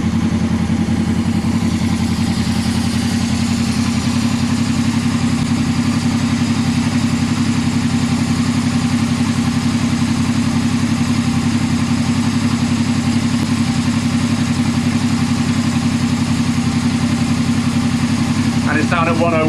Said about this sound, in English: Give it a little rev, let it settle